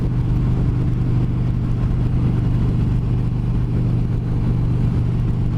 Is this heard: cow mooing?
no